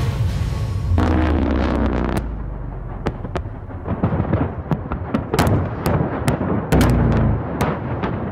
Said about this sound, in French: une scène entrée dans le Guinness Book des records, comme la plus grande scène d'explosion jamais réalisée dans un film